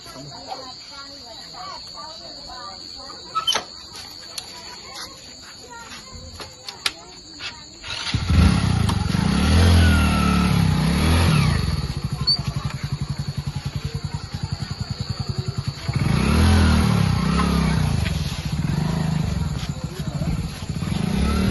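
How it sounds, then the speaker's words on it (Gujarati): A motorbike ride gets under way after a quiet opening with a few clicks, then a loud, steady engine and road roar that surges and swells as it goes, with no talk over it. "બાઈક લઈને નીકળવું પડશે મારા."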